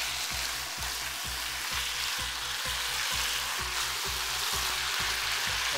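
Cornstarch-thickened sauce for a chow mein topping bubbles and sizzles in a pan, a continuous, fairly loud hiss with a steady, regular low pulsing underneath.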